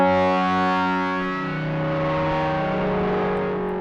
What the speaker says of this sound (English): It also has a drive control that can act as another level of distortion, and it sounds really good.